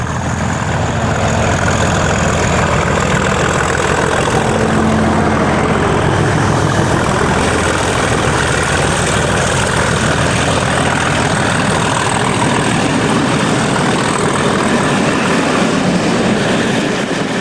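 British Class 37 diesel locomotive 37235 hauling a returning club train, a loud, sustained engine roar with heavy low rumble and droning harmonics that stays strong and steady throughout, with no talk.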